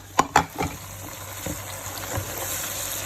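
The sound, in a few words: spoonfuls of blended paste added to pot, frying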